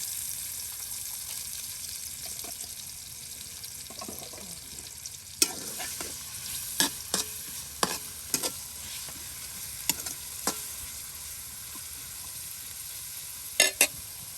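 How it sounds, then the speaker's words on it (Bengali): Onions fry in oil in a pan over a clay stove outdoors with a continuous soft sizzle, while sharp scraping clicks and taps of stirring break in now and then through the second half. "কত পেঁয়াজ তার সাথে দিয়ে দেওয়া হলো, আর তার সাথে তেলে ডুবু ডুবু করে নেওয়া হচ্ছে"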